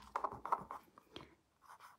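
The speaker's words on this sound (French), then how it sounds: "je vais l'écrire dans l'autre sens" Pen or marker writing a measurement onto paper or cardstock during a scrapbooking lantern craft: several short scratchy strokes in quick bursts, close and fairly quiet, then a pause and a few fainter strokes, with no talk.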